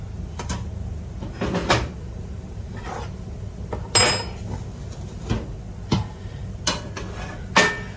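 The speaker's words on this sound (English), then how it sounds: "And I am going to add the celery, onion, and garlic to the meat." Celery, onion and garlic tipped into a pan of cooking meat for stovetop stroganoff, giving a series of sharp clatters and knocks of utensil against pan every second or so over a low steady background.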